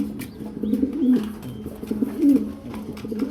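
An aluminium silver grizzle racer pigeon coos nearby in a loft, giving soft, low, rolling calls in repeated phrases over faint background rustling.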